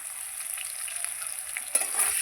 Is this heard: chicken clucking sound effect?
no